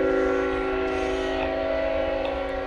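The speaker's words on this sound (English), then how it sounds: "Sorry about the train in the background." A train passes in the background near an abandoned cemetery in Mill Fork, Utah, giving a steady, loud rumble with a sustained horn-like tone throughout, and no one speaking.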